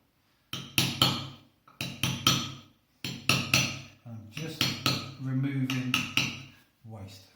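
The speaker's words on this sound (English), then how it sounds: "that's a chopping technique where I'm chopping much more into the stone" A chisel chopping into limestone while a letter R is cut gives bursts of sharp, ringing mallet strikes. They come in quick clusters of several hits, loud and close, with brief pauses between and a voice at one point.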